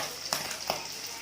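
Fish frying in hot oil gives a soft, close hiss, with two faint pops in just over a second.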